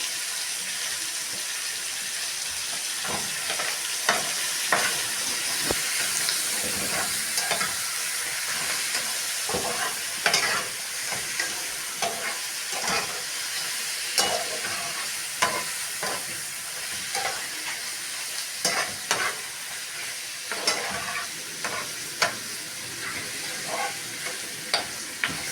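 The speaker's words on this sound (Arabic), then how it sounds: "هننزل بيها نشوحها شوية مع البصل ونسيبها تستوي شوية في عرقها كده" Chicken gizzards sautéing with onions in a pan, a steady close sizzle and frying hiss with frequent stirring scrapes and clicks throughout, no talking.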